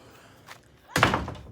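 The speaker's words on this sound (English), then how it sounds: "Oh, I slammed the door a little bit too hard." A door slams shut with a sharp, loud bang that rattles briefly, preceded by faint movement sounds.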